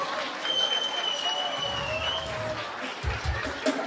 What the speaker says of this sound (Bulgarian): Аплодисменти за младоженника Петко!